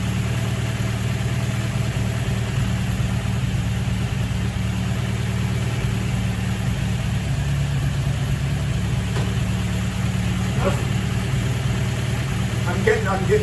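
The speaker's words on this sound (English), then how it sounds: "For the first time on her birthday in 69 years, this car is running." A 69-year-old MG TF sports car engine idles steadily with a low, even rumble that continues unchanged from start to finish.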